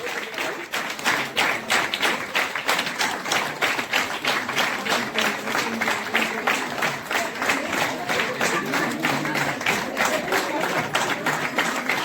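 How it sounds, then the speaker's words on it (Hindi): An audience at an Amway business session in Prayagraj keeps up steady, dense applause that runs continuously, loud and close, with a fast even patter of many hands throughout. "भाई तालियां बजाते रहिए"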